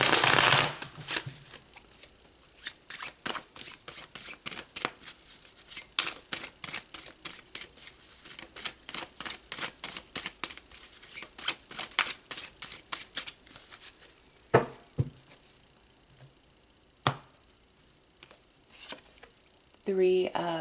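Tarot cards being shuffled by hand, a long run of quick, crisp riffling flicks close by, with a few sharper snaps and card taps near the end.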